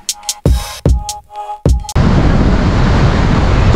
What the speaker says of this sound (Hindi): तो अभी ना यहाँ पे हवा इतनी तेज चल रही है और सच में बहुत ठंडी हवा।